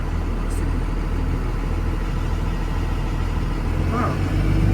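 A 2028 Thomas C2 Evolve school bus engine idles with a steady, close, low rumble that holds an even tone from start to finish, with no clear cranking or revving.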